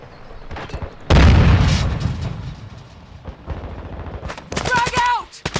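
Video game firefight with bursts of automatic gunfire and heavy shots, a loud sustained volley early on, then scattered shots with brief voices near the end.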